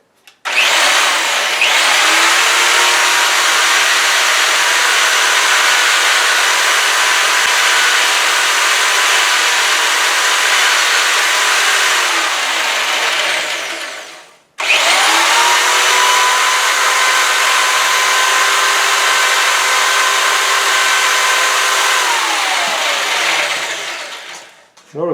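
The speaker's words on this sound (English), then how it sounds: "So with the motor running," Motor of a homemade wood lathe with a lead screw clutch running in two long steady whirring stretches, each winding down in pitch before a brief stop, loud and close, no talking.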